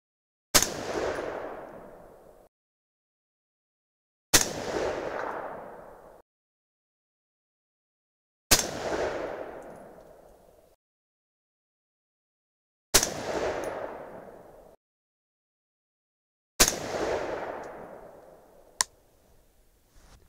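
A 6.5 Creedmoor AR rifle loaded with 130-grain Berger hybrid bullets over VihtaVuori N555 powder fires five evenly spaced single shots. Each is a sharp crack with a long fading tail, followed by silence and a faint click near the end.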